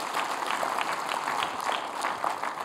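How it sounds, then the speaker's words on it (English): Church congregation applauding during a morning service, a steady wash of clapping with individual claps audible and no talk. "thankful for the freedom that's found in Jesus, give him a big round of applause this morning"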